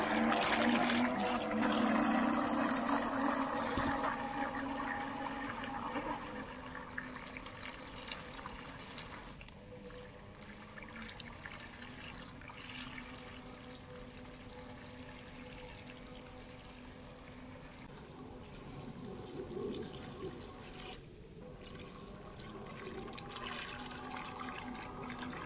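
A Chinese bait boat with nozzles and a hopper cover runs across the water at speed setting 3, a steady watery rush and motor hum that is loud at first and then settles to a quieter, continuous wash.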